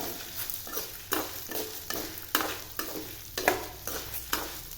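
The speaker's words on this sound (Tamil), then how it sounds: "நல்லா இதை பொன்னரமாக இப்போ வறுக்கணும்" Dry red chillies roasting in a pan while being stirred, a soft continuous crackle with regular scraping strokes about every second, close and fairly quiet, no talking.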